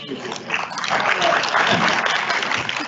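Graduation audience at a master's hooding ceremony applauds everyone who took part, a dense, steady round of clapping throughout with a few voices faintly mixed in.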